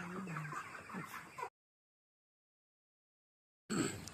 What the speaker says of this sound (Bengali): এই যে আমাদের ছোট একটা খামার আছে যেখানে 500 ব্রয়লার মুরগি রাখি